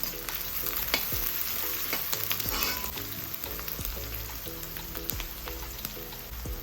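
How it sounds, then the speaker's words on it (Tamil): Small onions and ginger sizzle steadily in hot oil in a pan for a curry, with repeated scraping stir strokes cutting through the continuous frying hiss. "சின்ன வெங்காயமும் இஞ்சியும் சேர்த்து மிக்ஸ் பண்ணி விடுங்க"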